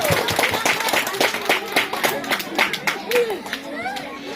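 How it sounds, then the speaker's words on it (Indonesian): Scattered audience clapping at a school Sunday school committee event, a sustained round of quick claps from a nearby crowd mixed with chatter and an announcer's voice. "Tepuk tangan untuk dia."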